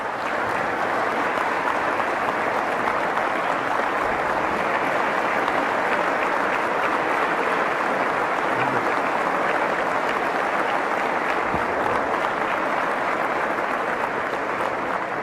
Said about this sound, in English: if y'all do all this clapping, don't blame it on me how long we're going to be here